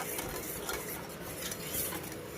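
Sugar being stirred into hot milk for donut dough, a steady continuous swishing and scraping of a spoon in the pot, close and unbroken, with no talking.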